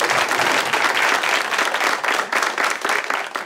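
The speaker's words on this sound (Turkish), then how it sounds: "Bir alkış." A studio audience applauds steadily, a dense wash of many hands clapping at once, loud and close throughout.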